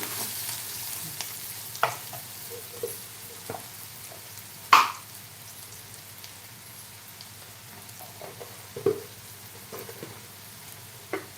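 Onions fry and get stirred in a pan for a spicy black chickpea curry, a quiet steady sizzle broken by occasional spoon clanks and scrapes against the pan.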